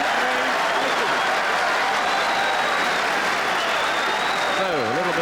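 Snooker match crowd applauding steadily after a shot in an Alex Higgins frame, dense continuous clapping filling the hall with a voice rising briefly near the end.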